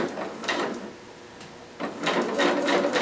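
A sewing machine stitches along a garment seam in two bursts of rapid mechanical whirring, separated by a short pause, close and moderately loud.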